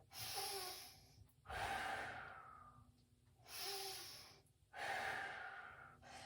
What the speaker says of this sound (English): I breathe in